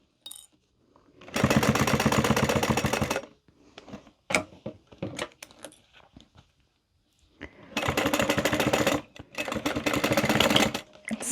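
A sewing machine stitches a fabric wristlet in two runs of steady, rapid mechanical whirring, separated by a quieter gap of clicks and fabric handling, all close and alone with no talk.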